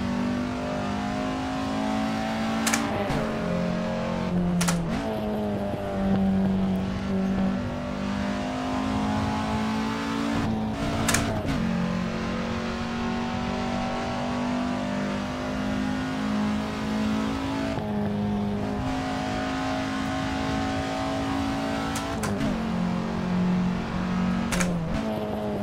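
A Peugeot 205 drives through traffic in a VR traffic mod racing game, its engine loud and close, revving and dropping repeatedly with sharp pitch shifts and short bursts of acceleration, no talk over it.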